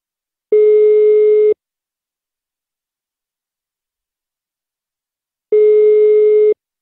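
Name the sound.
telephone line tone while calling for prank call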